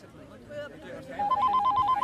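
A telephone rings in the second half with quick, repeated electronic trill pulses that are clear and close. A voice and some room noise come before the ring.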